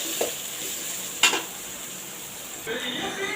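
Onion and capsicum sautéing in oil in a pan, a soft continuous sizzle broken by a few sharp utensil scrapes and clinks as the vegetables are stirred, with no voices.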